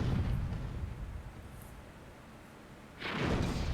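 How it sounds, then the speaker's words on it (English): Cannon shot in the Myth II Soulblighter game: a deep rumbling blast that fades off, followed by a second burst of noisy impact near the end. "See a nice cannon shot"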